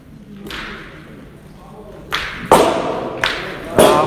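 Petanque boules clacking together in a shot at a European petanque match, several sharp separate impacts spaced over a few seconds, fairly close, over low background murmur.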